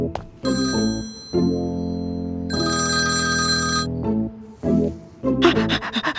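A telephone rings over and over with bright, repeating electronic tones, loud and close, going unanswered in an indoor scene from a Turkish drama.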